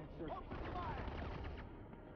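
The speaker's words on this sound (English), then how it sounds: "Who's shooting at me?" Gunfire crackles in the video game Dead Rising 3, a quick cluster of distant-sounding shots at low level mixed with faint game effects.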